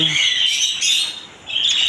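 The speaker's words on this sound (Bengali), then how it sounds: "এদিকে পেয়ে যাবেন জাপানিজ বাজরিকা পাখি" Japanese budgerigars at a bird market in Pabna, Bangladesh, squawk and chirp in a busy, high-pitched flock, a near continuous chatter of shrill calls.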